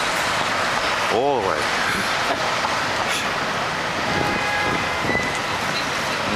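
A New York subway train rumbles steadily near 34th Street, a continuous loud clatter with a brief horn-like toot partway through, while a person speaks briefly over the noise.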